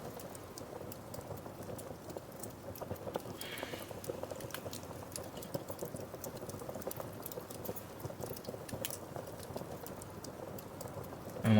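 Food simmering in a cooking pot in the video game Mask of Moonstone Island, a steady soft bubbling and pattering hiss that continues evenly throughout, with faint occasional clicks.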